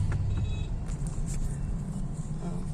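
Busy street traffic in Butuan City: a dense, continuous rumble of passing cars and other road vehicles, with a faint tonal beep near the start and no talk over it.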